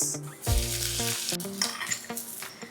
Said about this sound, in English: Once our mustard and fenugreek sputters, we are adding in a handful of shallots.